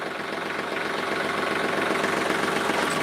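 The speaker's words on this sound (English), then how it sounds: "We're gonna be on the tractor for a minute." A tractor engine idles steadily at a firewood-processing job, a continuous close, loud rumble with a knocking texture and no talk.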